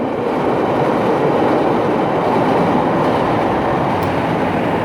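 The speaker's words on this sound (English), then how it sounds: "Had to wait till the train moved." A train rumbles past close by, a loud steady roar of wheels and rattling cars that carries on without a break.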